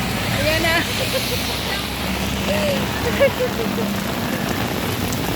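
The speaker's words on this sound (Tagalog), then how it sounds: "ang lakas nga ng ulan" Heavy typhoon rain pours down in a dense, continuous hiss close by, with a short spoken remark over it.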